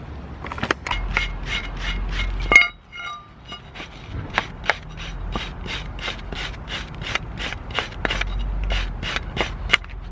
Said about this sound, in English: use a wire brush.